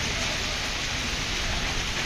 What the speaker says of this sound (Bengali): রাতের বৃষ্টি